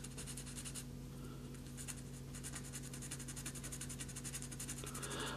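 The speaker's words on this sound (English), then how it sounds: "And I'm using a pretty low grit sandpaper too." Low-grit sandpaper rubbed by hand over small photo-etch metal model parts, a steady scratchy rasp of repeated strokes running throughout, close and fairly quiet with no talking.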